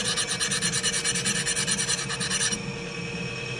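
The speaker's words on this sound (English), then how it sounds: "I'm just going to balance it between the front and the back and hone that edge." Close, rhythmic rasping strokes from honing the edge of a negative rake scraper, about a dozen even back-and-forth passes over two and a half seconds, then a fainter steady scrape as the strokes stop.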